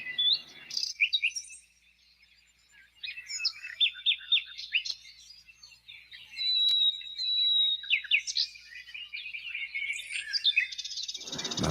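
Birds chirp and tweet outside at a feeder, several quick high calls trading back and forth in bursts, with a short quiet stretch early on and a louder flurry near the end.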